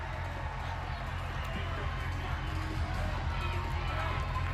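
Fans cheer inside an arena during an NCAA volleyball tournament quarterfinal between Texas and Nebraska in Omaha, a loud, continuous crowd roar that holds steady throughout.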